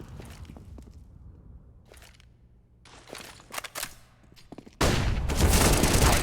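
Gunfire in a Counter-Strike match on the Mirage map, from a competitive esports league game: scattered sharp shots and short bursts, then a sudden dense, loud barrage of rapid fire that runs to the end.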